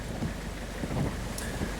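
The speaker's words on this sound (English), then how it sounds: "It's still raining." Steady, dense rainfall on a wet morning outdoors, a constant soft hiss with occasional faint low rumbles, fairly quiet and even throughout, with no voices.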